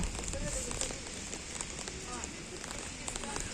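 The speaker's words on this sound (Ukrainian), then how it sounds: "це осінній, холодний, противний, монотонний дощ" Cold autumn rain falling on an outdoor market, a steady dense patter with occasional sharper drips on surfaces, continuous and close, with a voice talking faintly over it.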